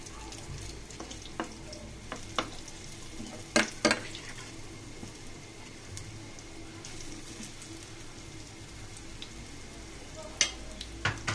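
An egg and onion mixture frying in hot oil in a pan over a lowered flame, a steady soft sizzle throughout, broken by a few sharp pops and clicks of a utensil.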